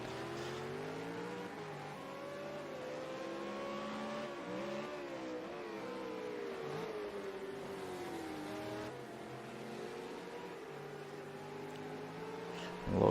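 Race cars with performance exhaust systems lapping a circuit in a GP 150 race at Rupuna Park, a steady close engine drone with rising and falling revs as the cars accelerate and shift.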